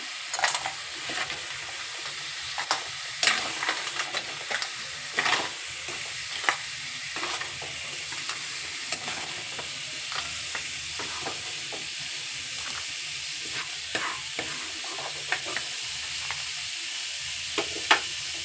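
Crabs frying in hot oil make a steady close sizzle and hiss, broken by repeated clicks and scrapes of a spoon against the pan, no voices.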